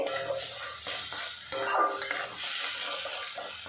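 Spice paste frying in oil in a pan while it is stirred, a steady sizzle with soft scraping and clinks of the spatula, close and moderately quiet, no talking.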